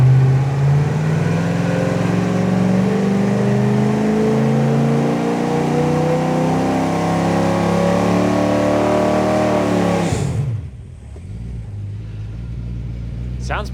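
A Buick 350 V8 on a dyno revs hard and loud, its pitch climbing steadily for about ten seconds before the throttle is cut and it drops back to a low rumble.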